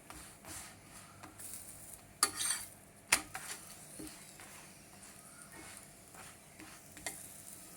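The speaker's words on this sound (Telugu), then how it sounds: "4 వైపులా చుట్టువైపులు మొత్తం చుట్టూరు వేయించుకోవాలండి" A chapati is roasted in a pan, turned on all sides, with soft sizzling under a few sharp clinks of a utensil against the pan and light scraping throughout.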